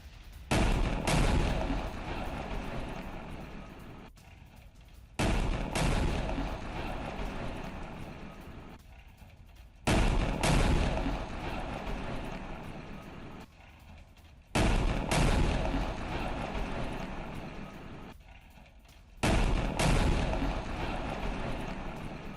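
A Hamas anti-tank mine blasts under an Israeli bulldozer in the West Bank. The same heavy, booming explosion repeats about five times at steady intervals, each hitting sharply and then fading into a long, rumbling roar.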